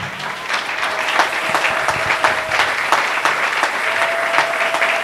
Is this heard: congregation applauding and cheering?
yes